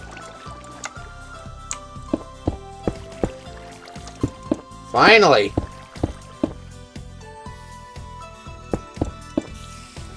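Water flowing and filling a gap in Minecraft, a brief gurgling splash in the middle amid small clicking game sounds, with a person talking throughout.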